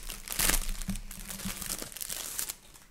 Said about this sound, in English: now I will unwrap it the first time because she sent me some